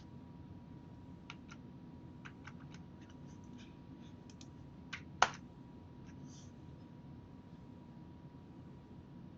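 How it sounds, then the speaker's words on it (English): Computer keys clicking during an Ubuntu server setup in Hyper-V Manager, a scattered run of light, quiet taps followed by one sharper, louder keystroke, then a few more faint clicks over a low hum. "So I'm just going to click enter."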